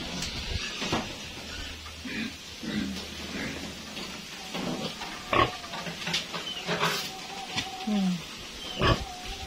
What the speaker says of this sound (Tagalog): Yan yung biik ni Inang, oh